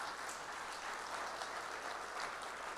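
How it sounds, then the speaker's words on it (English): A memorial gathering audience applauds the behind-the-scenes tech crew, a faint, steady, even wash of clapping heard from a distance that holds throughout without voices on top. "let's give a big round of applause to everybody behind the scenes here."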